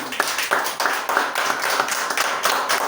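Congregation at a church service applauding, a steady dense clapping from many hands filling the room with no talk over it.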